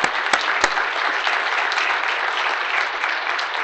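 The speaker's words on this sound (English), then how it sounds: "I'd like to give a round of applause for Professor Severson for his work through the years." An audience at a law school ethics seminar gives a round of applause for a retiring professor, a dense, even clapping from a sizeable room, steady and fairly loud throughout.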